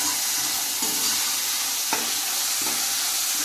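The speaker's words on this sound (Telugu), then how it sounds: "ఉల్లిపాయ ముక్కలు కొద్దిగా ఫ్రై అయినాయండి" Chopped onion and green chillies fry in a pan with a steady close sizzle, broken by a few sharp scraping strokes of stirring.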